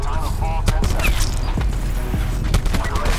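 Rapid bursts of video game gunfire from a no-recoil weapon, loud sharp shots crackling repeatedly over a dense mechanical battle din, with a voice briefly talking among them.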